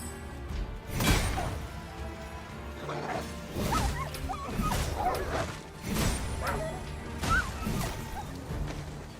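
Hyena-like dog enemies in the video game Dragon's Dogma 2 yip and bark repeatedly amid crashing and swooshing combat hits, a busy, fairly loud stretch of fighting with no talk.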